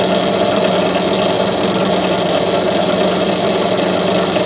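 An H&L HL-8813 13mm bench drill motor runs with a large motor pulley driving a small front pulley, giving a loud, steady whirring hum. The drone stays constant throughout, close up, with no speech.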